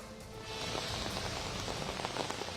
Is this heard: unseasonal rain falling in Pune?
yes